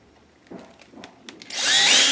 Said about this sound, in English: I put a smaller drill bit into my drill.